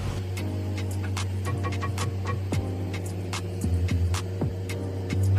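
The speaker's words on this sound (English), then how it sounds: "we're feeding it to the printer, and the printer's going through and implementing it" A large-scale 3D printer runs through a Marine Corps printing exercise, giving off a constant low mechanical hum with scattered ticks, clicks and brief whirring sweeps, fairly faint and without speech.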